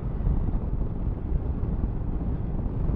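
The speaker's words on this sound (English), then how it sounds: "It's quite a bit of wind again today" Wind roars across the microphone of a KTM 390 Adventure motorcycle on the move, a loud, steady low rumble that buffets without any break and carries no voices.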